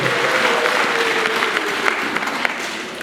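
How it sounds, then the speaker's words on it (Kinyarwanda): Enthusiastic audience applause at a live church choir concert, a full crowd clapping loudly and continuously for a few seconds, with faint voices underneath. "nimukomere amashyi"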